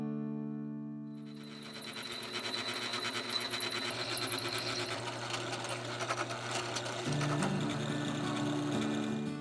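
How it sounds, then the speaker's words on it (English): A power drill bores into a go-kart clutch puck, whirring steadily after a quiet start, a continuous high-pitched buzzing grind that shifts slightly in pitch partway through. "What about drilling out some of the material to lighten the clutch puck?"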